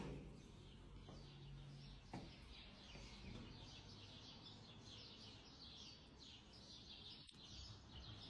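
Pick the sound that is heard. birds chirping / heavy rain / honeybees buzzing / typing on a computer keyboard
birds chirping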